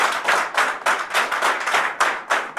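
An audience claps loudly for a guest speaker at a Ludo Club session, sounding as a close, rhythmic series of sharp synchronized claps, about three per second, with no talking.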